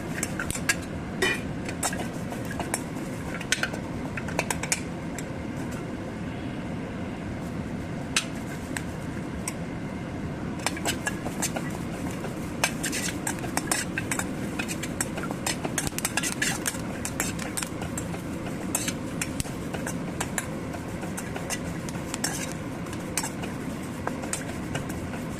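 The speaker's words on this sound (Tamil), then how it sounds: "புளியை போட்டுங்க நல்லா வறுத்து எடுத்துக்கலாம்." Tamarind, urad dal and chillies being stirred and roasted in a hot pan, with steady metal scraping and light clinks of a spoon against the pan throughout, close and continuous with no talking.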